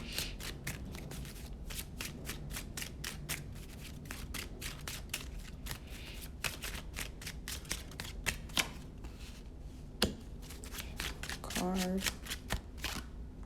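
Tarot cards riffled and handled throughout, a steady run of quick flicking snaps with a few sharper slaps as cards are pulled, fairly faint and close, with a brief spoken sound near the end.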